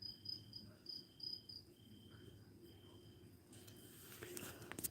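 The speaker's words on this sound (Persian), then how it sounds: "کم در عوض ملخا رو گوش کنید." Grasshoppers chirp at night, a faint, thin repeating trill in a quiet outdoor setting, with soft rustling noises rising toward the end.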